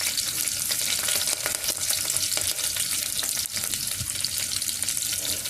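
Onions with curry leaves frying in a pan, a constant dense sizzle and crackle with occasional stirring scrapes, close and steady and with no talk.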